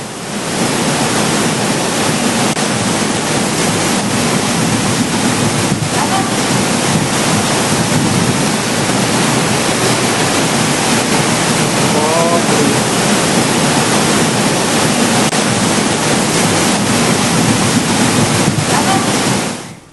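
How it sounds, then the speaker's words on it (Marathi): A powerful, steady roar of rushing water gushes without a break through a protective wall like a burst pipeline, loud and close, after heavy rain. "संरक्षक भिंतीमधून चक्क एखादी पाण्याची मोठी पाईपलाईन फुटल्यासारखा पाण्याचा प्रवाह ओसंडून वाहत होता"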